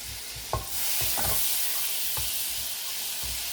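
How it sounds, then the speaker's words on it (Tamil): Butter sizzles loudly in a pan for keema noodles, a bright continuous hiss punctuated by a series of spatula scrapes and stirring knocks, close up with no voices. "இப்போ பட்டர் சேர்த்தாச்சு"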